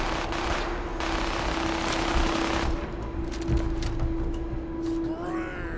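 Turret gunfire in Fallout 4's Nuka World: a steady, dense automatic rattle sustained across the whole stretch, loud and continuous with a constant mechanical hum underneath and brief electronic chirps near the end.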